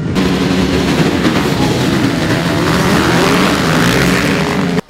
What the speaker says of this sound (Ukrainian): двигуни ревуть і мотоцикли вже вириваються з рук спортсменів